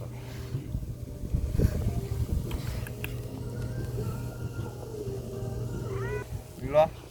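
A cat meows near the end, a couple of short rising cries over a low rumbling background with faint voices earlier, at a seafood restaurant on Marado Island, Korea.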